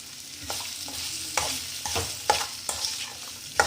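Carrot sabzi sautéed in a pan, with a run of close, brisk scraping stir strokes over a low, steady sizzle.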